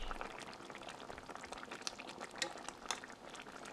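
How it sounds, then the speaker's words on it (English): Tofu going into a pot of simmering curry pigeon peas, giving a soft liquid bubbling and wet sloshing that stays quiet and steady, with faint clinks of a utensil and no talk. "Adding our tofu to the pot"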